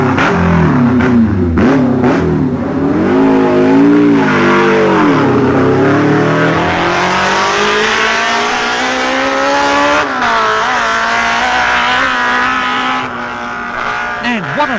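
A battered MV racing motorcycle at a wet road race passes with a loud, continuous engine note that climbs and falls through gear changes, with a commentator's voice running over it.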